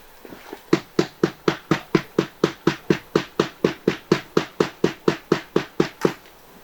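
A rubber mallet strikes the bottom of a plant pot during repotting of a wild plum bonsai, giving about twenty evenly spaced, firm thuds in a steady fast rhythm, close and clear with no talking.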